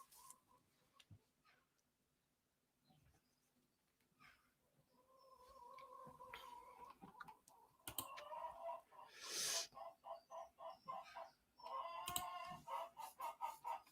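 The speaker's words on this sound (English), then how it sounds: "we got all sorts of chicken noise going on" Chickens cluck and a rooster crows in bad weather, at first sparse and distant over quiet, then building into a busy, rhythmic run of clucks and squawks.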